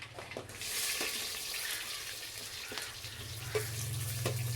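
Sliced onions hit hot oil where mustard and fenugreek seeds have already popped, the base for a spicy kizhangan fish curry. A steady bright sizzle hisses throughout, with a few faint clicks and ticks, and no talking.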